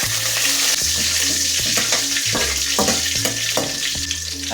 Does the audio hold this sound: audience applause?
no